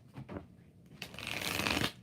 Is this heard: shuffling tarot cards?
yes